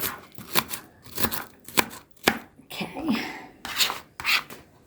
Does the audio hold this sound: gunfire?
no